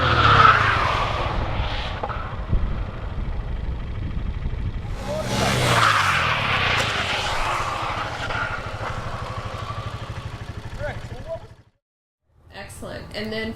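Motorcycle braking with only the rear brake, engine and wind noise under a rough tire skid, then a short silence before faint sounds resume.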